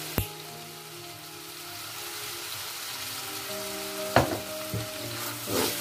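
Ground beef sizzles in a pan, a soft, steady fry broken by a few scraping stirs and clanks of the utensil against the pan, close and moderately quiet.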